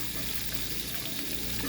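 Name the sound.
fish marinated with garlic and vinegar being cooked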